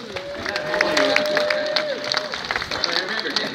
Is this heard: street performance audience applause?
yes